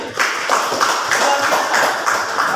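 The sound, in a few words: classroom applause for a student group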